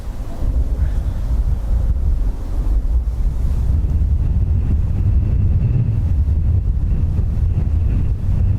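Strong gusty wind buffeting the microphone at Dublin Airport beside the runways, a loud continuous low roar that swells and eases, with no voices.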